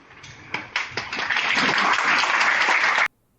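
Applause from an event audience that starts with a few scattered claps, quickly swells into dense, loud clapping, then cuts off abruptly near the end.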